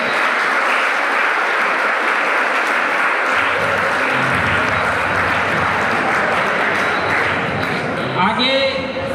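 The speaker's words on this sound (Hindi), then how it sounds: "इनका जोरदार तालियों से स्वागत कीजिए।" Loud, dense applause from a crowd at a Veer Bhagat Singh Yuva Dal gathering welcoming Shri Dinesh Kapoor, steady throughout, with voices and a murmur of talk rising beneath it midway and a brief voice near the end.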